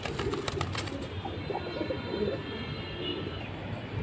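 Pigeons coo softly at a breeder's loft where high-flying silver, Jabra, Jira and Ro pigeons are kept, with low repeated coos close by and a faint chirp above, and no talking.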